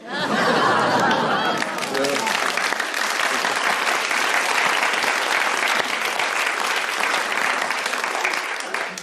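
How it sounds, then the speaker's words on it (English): Long, sustained audience applause at a comedy show after a humorous poem about an air hostess, dense clapping filling the room for the full stretch with a little laughter and chatter at the start. "Long applause for that one."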